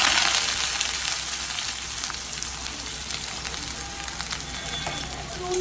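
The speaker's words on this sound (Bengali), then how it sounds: "ফার্স্টে দেবো একটু সর্ষের ফোড়ন" Mustard seeds splutter in hot oil for tempering, a dense continuous crackling sizzle with scattered tiny pops, close and steady with no voices.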